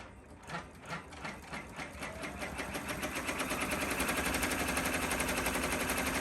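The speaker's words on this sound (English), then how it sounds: "we're going to put it back on the machine and run the next step" Embroidery machine running a triple bean stitch around the outside of a heart on a shabby chenille design, a rapid even rhythmic stitching patter that builds slightly in loudness and runs on steadily without talk.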